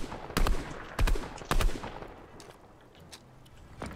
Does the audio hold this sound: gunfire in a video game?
yes